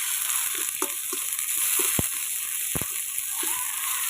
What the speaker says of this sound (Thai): ใส่น้ำมันพืชลงไปสักน้อยแล้วก็เอาเครื่องแกงเขาลงไปขัวก่อนเนาะพี่น้อง